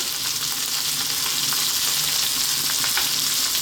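Chili powder, turmeric and salt are stirred into food frying in a pan, giving a loud, steady sizzle with occasional scrapes of the spoon and no talking.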